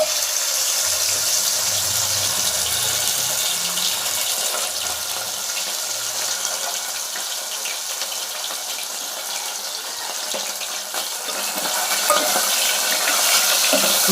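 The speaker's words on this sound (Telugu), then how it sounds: "ఈ చేప ముక్కలు గోల్డెన్ కలర్ వచ్చే వరకు వేపుకొని తర్వాత ఉల్లిపాయ ముక్కలు వేసుకుందాం" Pieces of dried fish fry in hot oil for a tomato curry, a steady, dense hiss and crackle running evenly throughout, close by and fairly loud, swelling slightly near the end.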